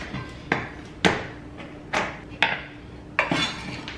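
Vegan, gluten-free protein cookie dough with chocolate chips being mixed in a bowl, giving a close series of uneven clanks and scrapes of a utensil against the bowl, about one or two each second.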